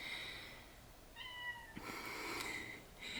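An indoor cat meows to be let in, giving a few faint, drawn-out cries with a brief pause between them in an otherwise quiet room.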